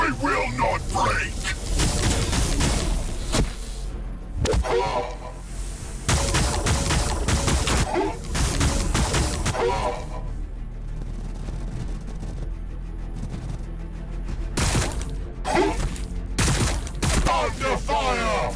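Sustained gunfire and explosions from the Warhammer 40k Battlesector video game, with dense overlapping bursts and booms running loud throughout amid continuous battle noise.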